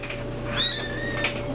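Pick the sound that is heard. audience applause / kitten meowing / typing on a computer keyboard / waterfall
kitten meowing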